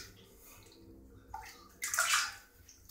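Water runs into a bathtub to bathe a cat, a hissing flow that swells louder and splashier partway through, close by with no talk over it.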